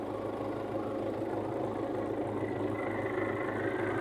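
An MTZ-82.1 tractor engine idles steadily during a capstan winch test outdoors, a continuous low diesel rumble with even knocking texture, close and constant, with no talking.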